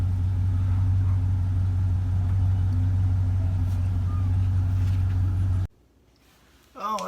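A 2000 Chevrolet Silverado 4x4 pickup truck engine drones low and steady from inside the cab during a test drive, then cuts off abruptly near the end, followed by near silence and a brief bit of voice.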